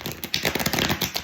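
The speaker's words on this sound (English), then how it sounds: "I'm going to give it a quick shuffle just to get the energy going in the cards." A deck of tarot cards gets a quick shuffle close up, a rapid burst of crisp riffling and flapping card sounds, brisk and uneven, with no talking.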